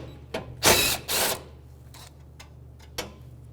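Ratchet turning a 10mm socket to remove a screw on a 2013-2018 Toyota RAV4 makes two quick bursts of clicking close by, followed by a few fainter single clicks in a quiet setting.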